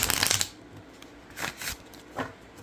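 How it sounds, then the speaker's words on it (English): A 44-card oracle deck on good cardstock being shuffled: a burst of riffling at the start, then two shorter soft card riffles, close up and without speech. "So let's see how they shuffle."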